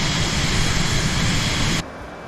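A Cirrus Vision Jet in flight gives a steady, loud cabin roar of engine and airflow that holds evenly, then cuts off abruptly, leaving a faint hum.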